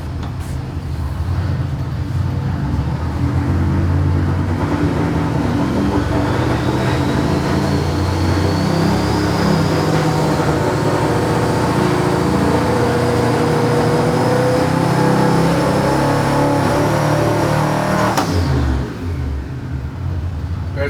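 Naturally aspirated car engine running without boost on a dyno, a loud sustained revving drone whose pitch rises steadily before cutting off sharply near the end, then settling back to idle.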